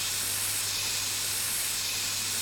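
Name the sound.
spray being applied, from video game My Summer Car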